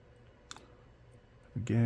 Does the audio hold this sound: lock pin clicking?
yes